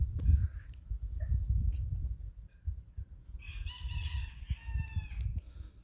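Black bantam Cochin chickens in a backyard flock, with steady clucking from several birds and a rooster crowing in a bright, drawn-out burst partway through.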